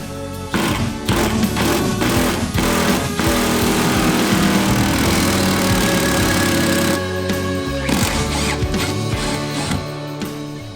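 An impact wrench runs a bolt into a soft aluminum insert on a Ford F-Series BoxLink mounting plate, a loud continuous rattling hammer with a few short bursts toward the end.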